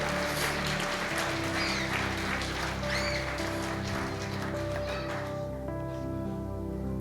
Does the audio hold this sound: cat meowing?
no